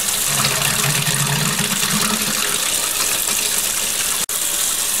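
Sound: hot water tap sputtering as air purges from tankless heater

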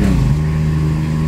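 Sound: VW Polo TSI engine revving during manual gear change

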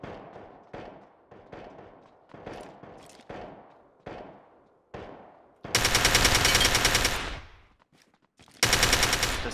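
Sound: gunfire in a video game

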